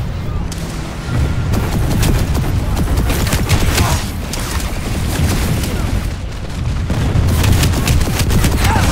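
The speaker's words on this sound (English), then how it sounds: "you can pull out a manticore pistol and boom, voila!" Manticore pistol shots in the online shooter Planetside 2, a dense run of loud, close gunfire bursts that keep going the whole time over heavy booming combat noise.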